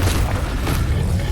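A Confringo blasting spell in Hogwarts Legacy sets off a loud, continuous rumbling boom that stays heavy and unbroken throughout.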